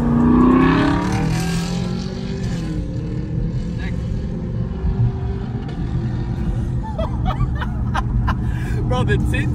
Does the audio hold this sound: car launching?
yes